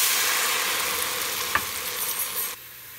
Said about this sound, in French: je vais y jeter les oignons, l'ail, le thym, je vais déglacer avec du vin blanc